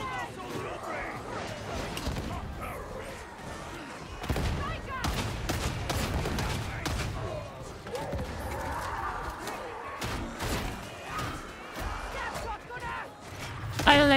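Shotgun fire in a first-person shooter game, with dense, moderately loud blasts and clatter scattered through the stretch while a player talks over the action.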